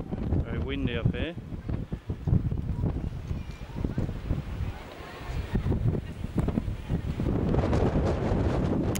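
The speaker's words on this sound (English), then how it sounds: "Very windy up here." Strong wind gusting across a hilltop summit, a steady roaring rush with buffeting on the microphone that swells louder toward the end, with voices talking briefly at the start.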